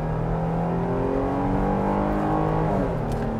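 2021 Jeep Grand Cherokee L with the V6 accelerating hard from a brake-boosted launch: a loud, steady engine drone with rising harmonics that climb through the gears, close and alone without talk.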